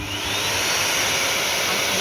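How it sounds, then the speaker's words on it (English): A bee vacuum used to suck up and collect bees runs with a loud, steady motor whine and rushing airflow, continuous throughout with no talk. "So a safe way is to vacuum the bees."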